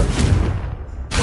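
A Confringo fire-blast spell cast in Hogwarts Legacy, a short, loud whooshing burst with a heavy low thump, decaying quickly before another burst begins.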